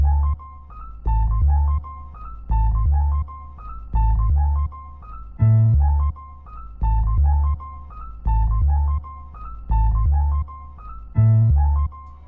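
Sampled beat sequence plays on an MPC Live II, a looping pattern of punchy low drum hits and a repeating melodic phrase in a steady rhythm, upfront and clean with no voices.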